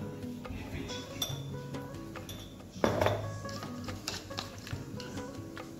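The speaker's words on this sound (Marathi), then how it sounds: "आता हे दुधामध्ये मिक्स करून घेऊ।" A spoon stirring custard powder into milk in a metal pot while making mango malai ice cream, with steady scraping and clinking against the sides and one sharper knock midway, close and moderate.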